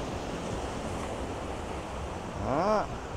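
Ocean waves break on a beach at night in Quy Nhon, Vietnam, as a steady roaring surf wash with wind noise and a brief rising voice-like sound near the end.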